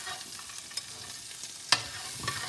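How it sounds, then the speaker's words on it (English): Half an onion sautéing and being stirred in a pan for a Jamaican brown stew fish, a soft steady sizzle with a few scraping utensil clicks and one sharper knock, alone without talk. "Half an onion right there. We're gonna saute that."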